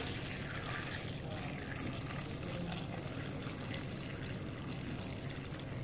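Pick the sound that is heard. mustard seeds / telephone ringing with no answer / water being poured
water being poured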